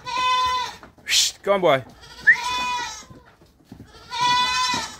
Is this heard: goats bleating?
yes